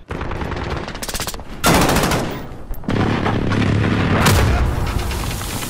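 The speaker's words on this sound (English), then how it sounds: "Enemy precision airstrike inbound." Heavy blasts and rapid gunfire from a precision airstrike in a Modern Warfare hardpoint match, with two big booming bursts over continuous loud combat noise and a player briefly talking.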